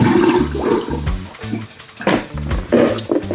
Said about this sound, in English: then you pour off the vinegar water